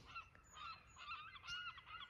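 Geese honk repeatedly and close by in a snowy winter kitchen garden, a continuous overlapping clamour of several birds with no talking.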